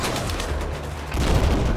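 Gunfire in the video game Battlefield 4, a short burst of dense low booming shots that grows heavier near the end, loud and alone with no talk.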